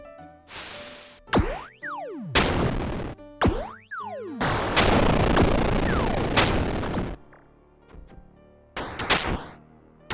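Bursts of small arms fire in the strategy video game Epicinium are mixed with springy boings and sharp thumps. Loud clustered volleys repeat over about ten seconds, with one longer sustained stretch in the middle.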